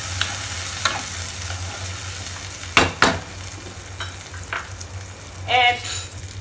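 Spices sizzle steadily in a pan as yogurt (dahi) is stirred in, with a few sharp scraping strokes of the spoon over a low continuous fry and no talking.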